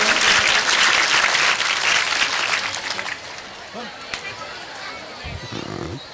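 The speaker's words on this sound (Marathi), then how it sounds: "सर्वांनी एकदा टाळ्या वाजवा" An audience at a lecture and felicitation ceremony breaks into loud, sustained clapping that gradually thins and fades out, leaving a few scattered claps and faint murmurs toward the end.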